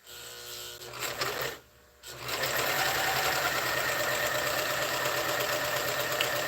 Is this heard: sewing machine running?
yes